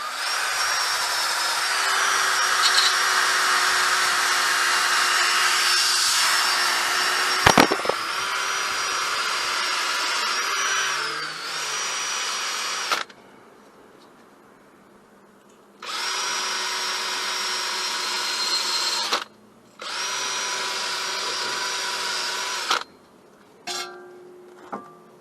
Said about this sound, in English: coming in behind with a wire brush on a drill